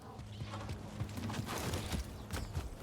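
Horse hooves clip-clop steadily on the ground in the Star Wars Jedi Survivor video game, a fairly quiet rhythmic plodding under a dense ambient background with no talk.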